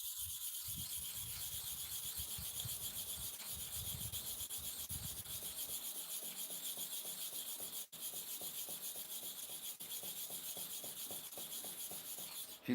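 A hair clipper blade is rubbed back and forth for sharpening, giving a quiet, rhythmic scraping that speeds into a fast, even series of strokes in the second half, with no talk.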